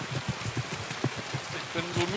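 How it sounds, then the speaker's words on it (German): Steady rain in Escape From Tarkov gameplay, a dense, even hiss that covers the whole clip, with low thumps and murmured game sounds beneath it. "Und der Regen ist so laut."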